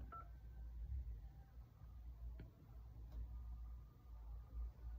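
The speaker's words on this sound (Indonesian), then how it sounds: "kita coba telepon" Telephone keypad tones beep briefly a few times on an iPhone 14 Plus making a test call, over a low background hum, with faint ticking in between.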